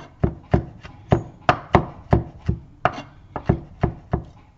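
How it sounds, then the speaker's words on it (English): A knife roughly chops small thyme leaves on a wooden board in a steady run of about a dozen crisp, close knocks, evenly paced and fairly loud, with no voices. "Just a rough chop with the thyme."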